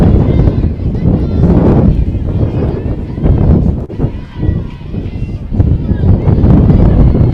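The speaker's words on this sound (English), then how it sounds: "Now a huge gust of wind coming on through" A huge gust of wind buffets the microphone at an outdoor college softball tournament field, a loud, sustained roaring rumble that swells and dips over several seconds, with a broadcaster's voice talking underneath.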